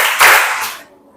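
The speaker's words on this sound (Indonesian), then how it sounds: "tepuk tangan" A group of schoolchildren claps their hands once in a short loud burst, followed by a quickly fading tail with faint voices during a classroom movement song.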